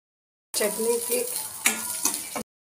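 Onion with green gram and urad dal frying in a chutney tempering, a short burst of sizzling with a couple of spoon scrapes against the pan, close and moderately loud, with faint voice traces.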